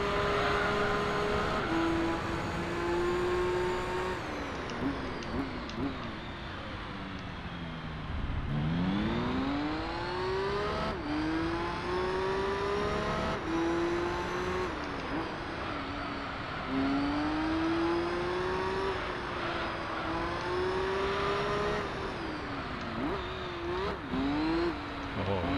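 Race car engine in Gran Turismo 3 during the Mistral Cote d'Azur endurance race, a steady high-pitched whine rising and falling through gear changes, with revs dropping and climbing repeatedly over about 25 seconds.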